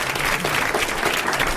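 A television studio audience applauds, a brief, dense and steady burst of clapping filling the whole moment.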